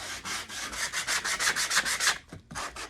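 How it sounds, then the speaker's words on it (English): Dry, rhythmic scratchy strokes of a coarse sanding block rubbed over wood on a dollar-store crate shelf, about a dozen quick back-and-forth passes close up, then a brief pause and a couple more strokes. "I'm just gonna give this a light sanding here and there."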